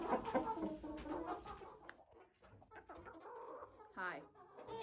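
Chickens cluck at the coop after dark near a new hutch being set up, their busy clucks fairly close and mixed with a person's voice.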